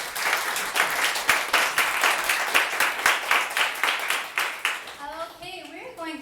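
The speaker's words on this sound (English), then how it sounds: "let's give a round of applause for Team A" Steady applause from a crowd fills the room, continuous clapping that fades at the end as a voice begins talking.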